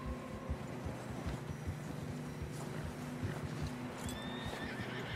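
In Red Dead Redemption 2, a struggling horse whinnies over steady clip-clopping hooves on a narrow path, with a continuous background rumble and a second neigh near the end.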